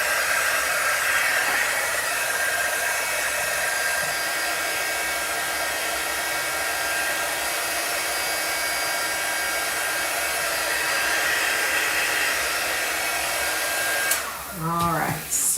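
A hair dryer blows warm air over a freshly applied color wash, a loud, steady, close whoosh running for about fifteen seconds before a brief shift in tone as it is moved or switched off.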